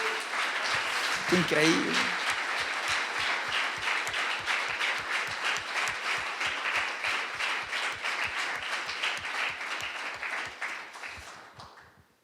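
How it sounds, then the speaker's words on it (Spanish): A congregation breaks into applause during a Christmas sermon. Dense clapping settles into a steady, rhythmic unison clap that slows and fades near the end, with a brief spoken exclamation early on. "usted debería darle un aplauso al Señor por eso"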